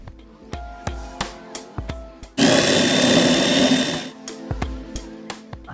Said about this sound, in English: I put a cloth underneath so that we can drill the hole without noise.